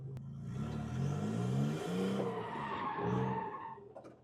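Tires squeal in long wavering howls as a car drifts around a circle, the pitch sliding up and down while the engine hums underneath. No one speaks.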